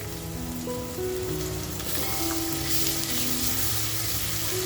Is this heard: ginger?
yes